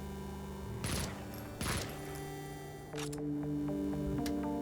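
SMG fire in the video game Project Warlock: a couple of short bursts and quick single shots over a constant tonal game hum, close and fairly loud, with no talking.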